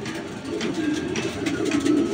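Pedigree bloodline pigeons coo softly and continuously at close range, with overlapping low, throaty calls and no talking.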